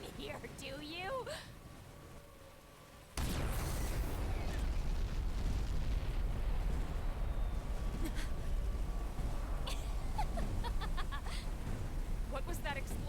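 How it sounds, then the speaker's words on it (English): Sudden loud explosion in the Xenoblade Chronicles X video game, a hard burst followed by a sustained rumbling roar that fills the rest of the scene, with game dialogue before and over it. "What was that explosion?"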